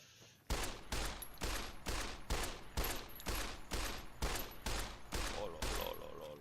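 Rapid, evenly spaced 10mm pistol shots in Fallout New Vegas, about a dozen loud, sharp cracks fired in a steady rhythm, each trailing a short echo.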